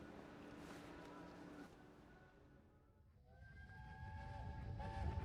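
A train in the video game We Happy Few rumbles past with a steady low roar, fading briefly before swelling louder again, joined by faint tonal whines from the cars.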